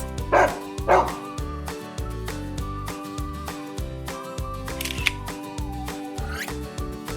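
A dog gives a few short barks over a steady, bouncy children's music bed, the yips loudest near the start and sitting close in the mix.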